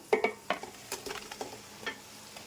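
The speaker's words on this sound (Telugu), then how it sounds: "ఇప్పుడు ఇందులోకి మనం ముందుగా వేయించి పెట్టుకున్న ఎగ్స్ అనేటివి వేసేసుకుందాము." Pre-fried eggs go into sizzling masala in a pan for egg pulao, with scattered stirring clinks and scrapes over a steady low fry.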